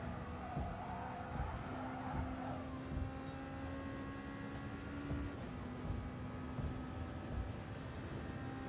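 A Volkswagen Beetle race car drives on a track in Gran Turismo Sport, giving a quiet, steady engine drone with thin sustained tones and occasional light tire noise throughout.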